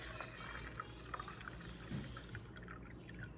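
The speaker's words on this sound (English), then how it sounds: "So I'm going to pour that into the cabbage juice." Salt water, made by mixing salt into two cups of water, is poured into cabbage juice, giving a steady liquid trickle and splash that runs throughout at close range with no talking.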